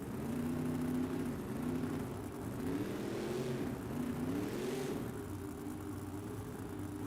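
Monster truck engine in BeamNG revving hard through a wheelie at a Monster Jam arena event, a loud, steady close-up roar with rising and falling pitch sweeps, no talk.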